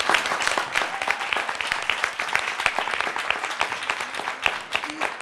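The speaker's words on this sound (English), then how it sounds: "Folks, can I get some clapping" A studio audience claps steadily at a live variety show, a dense patter of many hands at moderate volume with a voice talking faintly underneath.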